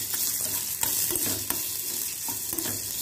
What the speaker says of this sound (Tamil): இப்போ வேக வச்சு மணிக்கொள்கட்டையை இதோட ஆட் பண்ணிடுவோம். நல்லா இதை மிக்ஸ் பண்ணிடுவோம்.